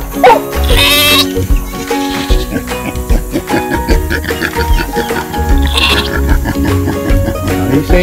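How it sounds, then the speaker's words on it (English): Sheep on a farm give several loud bleats close by, sharp wavering calls breaking out at intervals over a busy background of shuffling animals and movement. "Are you saying hi to the sheep?"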